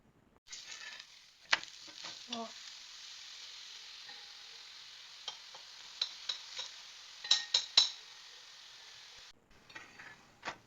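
Gobi paratha cooks on a hot tawa with ghee or oil, a steady close sizzle running throughout, broken by several sharp clinks and scrapes of a spatula turning the flatbread.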